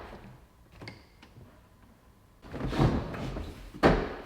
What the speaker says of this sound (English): Doors open, seat is slid forward.